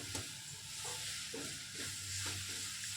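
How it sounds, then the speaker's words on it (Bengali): A sweet flour-thickened filling for Bengali dudh puli is stirred in a pan, with a steady low sizzle and several soft scraping strokes spaced about half a second apart, close and fairly quiet, no voices. "এভাবে একটু নাড়াচাড়া করলেই তৈরি হয়ে যাবে আমার আজকের পুর।"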